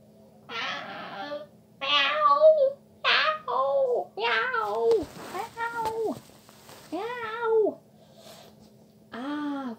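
A child imitates a cat meowing during Playmobil firefighter play, producing a series of about eight drawn-out, wavering meows spaced across the clip, loud and close.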